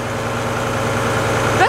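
A Republic Services garbage truck engine idles with a steady low rumble and broadband vibration, continuous and fairly loud throughout, ending with a brief squeal.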